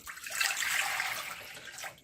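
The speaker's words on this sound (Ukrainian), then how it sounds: "беремо воду, наливаємо в миску" Water poured into a bowl while preparing a traditional Ukrainian poppy-seed dish, a close, hissing stream of liquid that swells quickly, holds steady, then tapers near the end.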